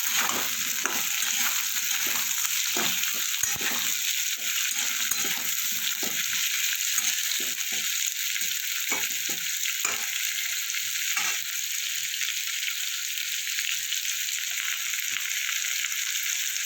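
Cut potatoes added to onions already frying in a pan give a steady, close sizzle throughout, with scattered crackles and stirring scrapes in the first half that thin out later.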